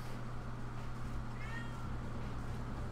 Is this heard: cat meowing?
yes